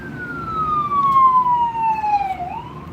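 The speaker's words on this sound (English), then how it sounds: "A loud ass ambulance." A loud ambulance siren on a city street, its wailing tone sweeping steadily downward and then rising again as it passes close by over low traffic rumble.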